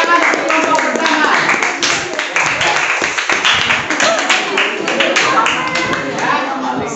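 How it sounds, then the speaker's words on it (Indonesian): Audience clapping for the first group of presenters at a teacher-training session, a steady dense patter of many hands close by, with voices talking under it. "Kita tepuk tangan untuk kelompok pertama."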